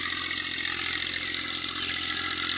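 A tractor engine drones steadily as it ploughs a farm field to prepare the ground for a new crop. The sound is a continuous, even mechanical hum heard throughout, with no talking.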